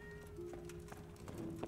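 A cat meows a few times in the medieval role-playing game Kingdom Come: Deliverance, short mid-distance calls set against steady ambient game sound, with no talk over it.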